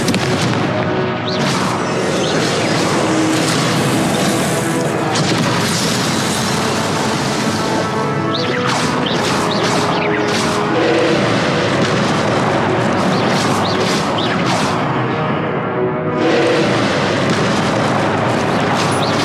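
Blasts from the Confringo explosion spell in Hogwarts Legacy on PS4, a dense, loud run of booming bursts and crackling impacts over a constant roar of game battle noise.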